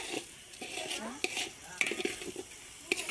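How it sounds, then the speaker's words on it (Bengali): Food is stirred in a large cooking pot at an outdoor picnic, with repeated scraping and metallic clinks of a ladle against the pot over a light sizzle, close by, with faint voices in the background. "থাক ভালোভাবে নাড়াচাড়া দেওয়া হইতাছে"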